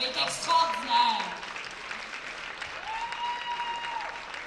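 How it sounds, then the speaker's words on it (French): An audience at a live stage show claps in a steady, dense round of applause, while a voice speaks over it at the start and again near the end. "je voudrais que vous applaudissiez pour vous-même"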